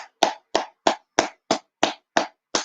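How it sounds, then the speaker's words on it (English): A single pair of hands claps nine times in an even, quick rhythm, each clap sharp and close, with clean silence between strikes. "I'll give him a round of applause."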